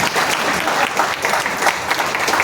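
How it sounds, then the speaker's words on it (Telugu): Loud, dense applause from an audience fills the whole stretch, steady and sustained without a break, with no voices standing out above it. "గట్టిగా చప్పట్లు కొట్టాలి"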